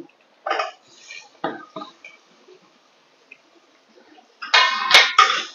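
Chopped onion, capsicum and carrot tipped into a pan with butter. Scattered knocks and clatter come first, then a loud, close burst of hissing sizzle near the end.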